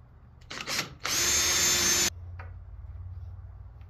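A power drill bores a hole in a cedar porch swing slat. Two brief revs come first, then a loud, steady whine lasts about a second before it stops sharply, followed by faint shop noise.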